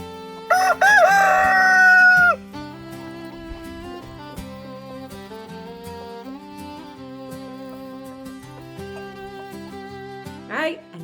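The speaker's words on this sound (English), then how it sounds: "Now the only thing left to do is feed the scraps to the chickens." A rooster crows loudly near the start, then chickens being fed salad scraps cluck and chatter softly over a steady background of music.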